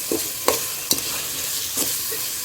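Chopped tomatoes go into a pan of fried onions for chicken biryani, giving a close, steady sizzle broken by a few scraping stirs of a spoon.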